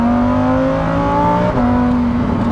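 Lamborghini Huracan STO, a rear-wheel-drive supercar, accelerating hard with its engine note rising in pitch, dipping briefly at a shift, then climbing again; loud and close, with no talk.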